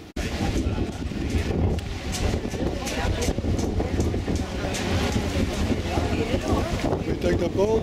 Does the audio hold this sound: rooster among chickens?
no